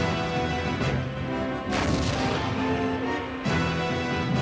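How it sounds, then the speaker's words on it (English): Heavy naval and aerial artillery bombardment of invasion beaches on Okinawa, a continuous roar of distant blasts and rumbling impacts with several louder crashes, no voices heard. "a massive preliminary aerial and naval bombardment pulverized the planned invasion beachheads and known enemy defenses inland"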